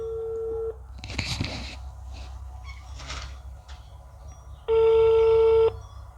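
A telephone call to a police station in Kanpur fails to connect: a short dial tone, then several clicks and bursts of keypad dialing, followed by a loud steady busy-signal tone near the end.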